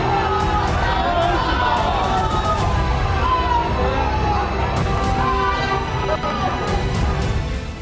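A large crowd of BJP supporters gathered outside a Kali temple in West Bengal for Amit Shah makes a loud, continuous din of overlapping voices, shouts and cheers that runs without a break.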